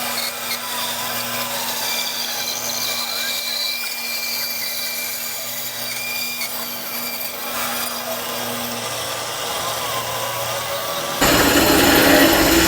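A bandsaw cuts a disc out of wood guided by a circle-cutting jig, giving a steady, continuous whine and rasp of blade on timber that runs unbroken, then jumps louder near the end. No one speaks.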